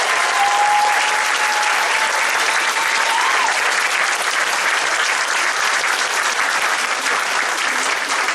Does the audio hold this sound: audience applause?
yes